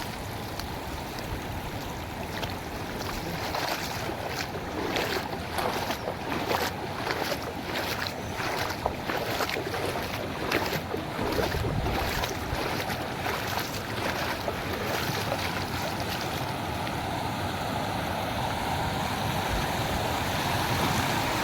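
Steady rushing water fills the clip, a continuous broadband wash of flowing river with no voices, holding an even level throughout.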